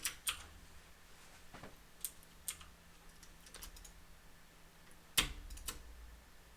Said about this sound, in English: Sounds like a mechanical keyboard. It is.